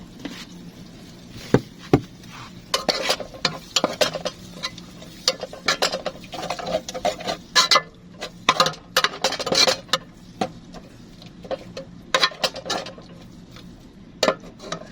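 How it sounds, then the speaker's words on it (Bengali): Spices being stirred in a frying pan for a rohu fish curry, with irregular clinks and scrapes of a spoon against the metal pan over a faint background hiss, no talking. "এখন আমি ভালো করে নাড়িয়ে নেব।"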